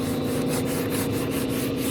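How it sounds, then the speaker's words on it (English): Steady, continuous sanding of primer off a cabinet, the primer coming off in flakes, with a rough, scratchy texture and faint rhythmic strokes, close up and with no talking. "sanding it, and it just comes off in flakes."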